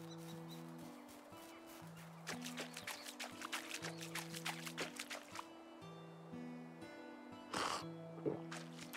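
Water is collected in the Medieval Dynasty game: splashing and trickling liquid sounds over a looping melodic background score, with faint bird calls nearby.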